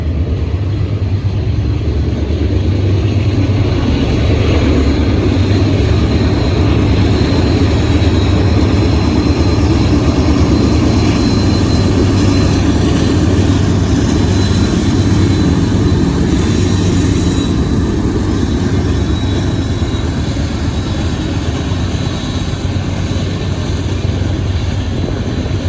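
Coal train on the Cresson grade with mid-train DPU helper locomotives roaring past close by, a loud, steady, sustained diesel rumble that holds unbroken for the whole stretch with no speech.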